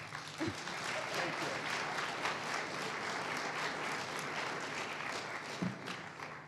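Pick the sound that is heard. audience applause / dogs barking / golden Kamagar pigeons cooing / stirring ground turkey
audience applause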